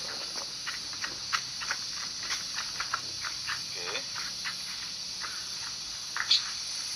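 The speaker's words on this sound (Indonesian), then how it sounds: "di latarnya ada suara tonggeret ya, suaranya serangga" Cicadas buzzing in an outdoor Indonesian setting, a steady high-pitched drone running throughout behind scattered faint clicks and chirps.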